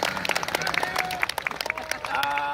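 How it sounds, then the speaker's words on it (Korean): An outdoor crowd applauds at a Christmas Eve candlelight rally in Gwanghwamun Square, Seoul, with dense close clapping mixed with cheering voices throughout the short burst. "박수 다시 한번"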